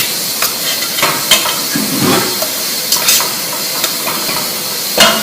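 Zucchini pasta stirred through fresh tomato sauce in a hot pan, a steady sizzle and hiss with repeated scraping strokes of the utensil, close and loud with no talking.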